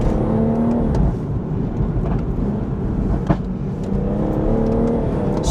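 A BMW M140i pulls hard along a back road, its engine drone steady and loud from inside the cabin, with road roar underneath and brief rising pitch sweeps as it accelerates.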